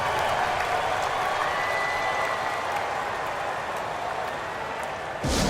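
Steady crowd applause and cheering for a youth dance squad in the NBA 2K25 video game fill the space, dense and continuous, then cut off abruptly near the end.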